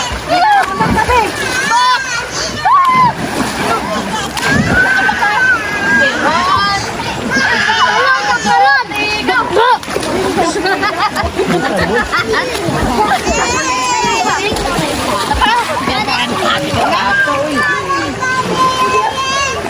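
People jumping into water at a family swimming spot surrounded by mountains, with splashes rising over constant crowd chatter and children's voices, several splashes spread across the scene amid loud talk.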